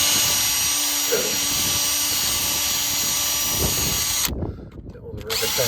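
A power drill whines steadily close by while drilling out rivets on an MF 178 tractor axle outdoors, wind rushing in the background, the drill cutting off near the end and leaving quieter wind and clatter.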